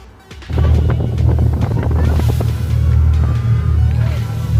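A tourist motorboat cruises on the sea among Thailand's islands, its loud, steady low engine drone starting after half a second, with wind buffeting the microphone throughout.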